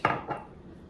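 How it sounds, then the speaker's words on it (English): Metal cutlery clinks against dishes in a home kitchen while apple pancake batter is being prepared, two quick close clatters followed by a faint settling rattle, with no voices. "Let me grab a fork."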